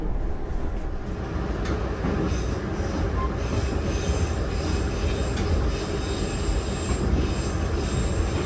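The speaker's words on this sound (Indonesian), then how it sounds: "perjalanan kereta api Sembrani yang saya naiki sudah meninggalkan stasiun Lamongan" An executive-class Sembrani passenger train rolls steadily along the rails after leaving Lamongan station, with a continuous low rumble and rattle and faint high wheel squeal throughout, heard close from inside the carriage.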